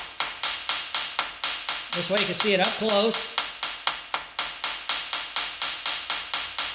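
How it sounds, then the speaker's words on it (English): A ball peen hammer lightly peening metal on a crank keyway, a rapid even run of sharp close taps about every quarter second, with a voice speaking briefly in the middle. "So now I'm going to take my ball peen hammer."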